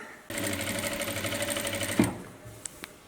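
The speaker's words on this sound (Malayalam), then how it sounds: "ഇങ്ങനെ ഈ എഡ്ജിൽ കൂടി തയ്ച്ച് ഇവിടം വരെയും കൊണ്ടുവന്ന് നിർത്തുക" A sewing machine runs steadily while stitching along the edge of a churidar slit, a continuous close whirring hum with rapid needle rhythm, stopping abruptly near the end followed by a couple of small clicks.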